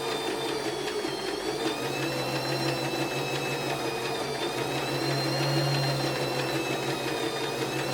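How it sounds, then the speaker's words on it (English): A Janome My Style MS22 sewing machine stitches a buttonhole with a steady, even mechanical whir and hum that runs nonstop, close and moderately loud, with a slight lift in pitch partway through. "First couple of bar tacks, then starts to go backwards."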